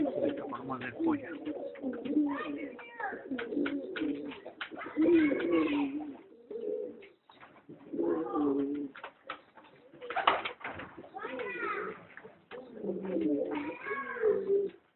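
A pigeon coos close by in repeated soft, throaty phrases separated by short pauses, with occasional rustling in between.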